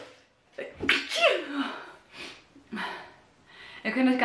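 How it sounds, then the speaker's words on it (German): One person sneezes several times in close succession, each burst sharp and near, separated by quick breaths and snorts. "ich habe heute bestimmt ungelogen 30, 40 Mal niesen müssen"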